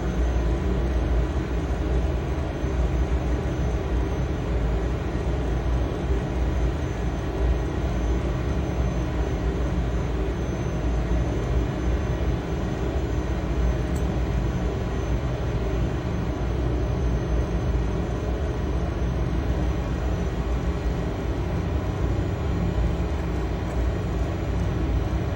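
Learjet 35A taxiing with its jet engines running, a steady, loud, continuous whine and broadband roar heard from the cockpit, unbroken for the whole stretch with no talk.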